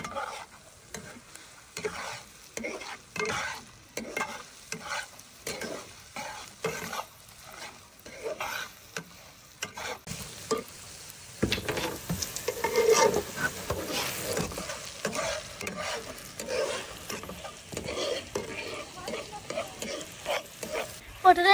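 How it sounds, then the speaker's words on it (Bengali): Pointed gourd peels frying in a pan while being stirred, a steady sizzle broken by repeated scraping strokes of the spoon, growing louder and denser in the second half. "পটলের চুচা ভাজা হয়ে গেছে"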